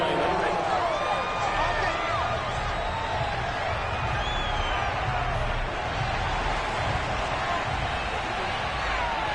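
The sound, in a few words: football stadium crowd shouting while watching a replay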